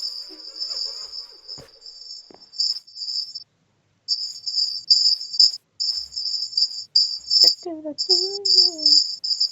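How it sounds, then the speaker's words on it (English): Minecraft bees drone in steady high-pitched buzzing bursts that stop and restart, with a few scattered game clicks and a short warbling chirp near the end. "There's so many bees, and I love it."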